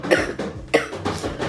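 A woman ill with a cold, fever and a lung infection coughs in several harsh bursts close to the microphone, with short pauses between them and no speech.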